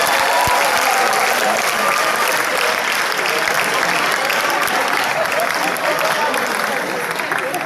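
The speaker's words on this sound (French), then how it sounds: "Aïssa, que je vous prie d'acclamer très fort" Loud, sustained audience applause fills a hall at the eighth Grand Concours de Chorale choir competition in Brazzaville, a dense wash of clapping that stays steady and close from start to finish.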